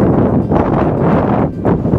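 Wind buffets the microphone in loud, rumbling gusts that roar steadily, briefly easing before surging back, at a village near Mitrovica, Kosovo.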